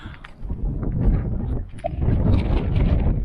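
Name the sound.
strong wind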